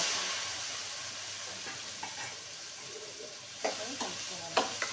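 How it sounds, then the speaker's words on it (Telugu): Ivy gourd pieces with turmeric fry in a pan under a steady sizzle, with a few sharp scraping stirs toward the end. "అన్నీ దొండకాయ ముక్కలు వేసుకోండి, కలుపుకోవాలి బాగా."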